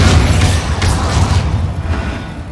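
A Bombarda spell explodes in Hogwarts Legacy with a loud, deep boom that swells and rumbles for a couple of seconds before fading.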